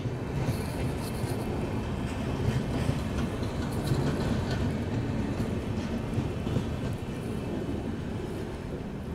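A passenger train runs along the rails while overtaking a Duronto express, a steady rumbling roll with faint clatter heard from inside, with no voices.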